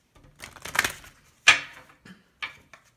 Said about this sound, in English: So a couple more shuffles, and then we're going to jump right in.